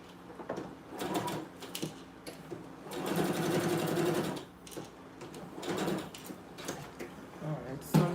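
A sewing machine stitches fabric for dog clothes in several bursts of whirring, needle-pounding runs. The longest burst comes midway, with short pauses and small handling noises between runs.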